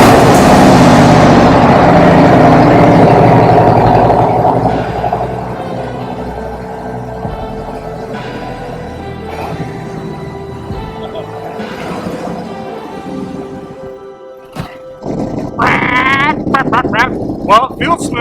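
A Harley-Davidson motorcycle fitted with Screamin' Eagle Ohlins suspension rumbles loudly as it pulls away, its engine drone fading under wind buffeting before some clattering handling noises and a brief rev near the end.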